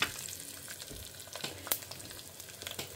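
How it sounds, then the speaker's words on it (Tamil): Mustard seeds splutter in hot oil, with sharp pops and crackles scattered over a soft, continuous sizzle, close and fairly quiet. "கடுகு பொரிய ஆரம்பிச்சுடுத்து"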